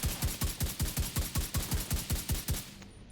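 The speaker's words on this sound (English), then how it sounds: "Is that a turret? They gave you a turret?" Enemy turret in The Division 2 firing a steady rhythmic string of about a dozen heavy booming shots at regular intervals, loud and close, fading at the end with no talking.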